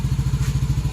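Fuel-injected motorcycle engine running steadily at idle after being started, a loud close low throb with an even rapid pulsing beat and no voices.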